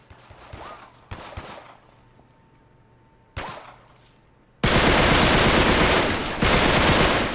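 Gunfire in the video game Uncharted 3. A few sharp single shots ring out at first, then a dense, loud burst of continuous automatic fire takes over and runs to the end.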